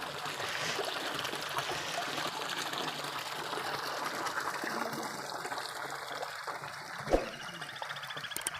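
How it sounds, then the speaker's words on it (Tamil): Steady rushing of rain-filled pond water overflowing and spilling down, continuous and fairly loud throughout, with a brief sharp knock near the end. "ஆ தண்ணி நிறைஞ்சி கீழே போயிட்டுருக்கு"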